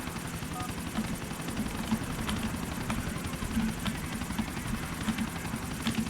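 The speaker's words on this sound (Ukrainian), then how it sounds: "А, значить поліцейські гелікоптери." Police helicopters in the video game GTA: The Ballad of Gay Tony give a steady, loud rotor drone with a regular low chopping pulse, continuous and alone throughout.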